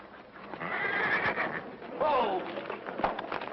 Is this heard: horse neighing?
yes